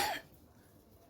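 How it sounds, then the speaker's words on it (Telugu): A single short cough from a boy, close and clear at the very start, followed by quiet room tone. "ఇప్పుడు కూడా దగ్గు వస్తుంది"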